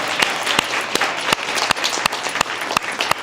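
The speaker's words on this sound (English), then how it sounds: "Round of applause." A crowd at a high school award ceremony applauds, a loud continuous wash of clapping with a few close, sharp individual claps standing out in a steady beat.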